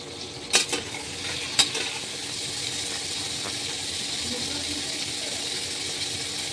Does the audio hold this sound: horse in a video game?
no